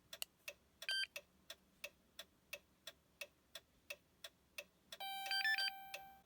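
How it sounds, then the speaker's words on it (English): A key programmer for a 2008–2014 Dodge Challenger key fob gives a steady series of quiet, evenly spaced ticking beeps, ending in a longer, louder tone in a quiet room. "now that we've heard those beeps, our key is programmed"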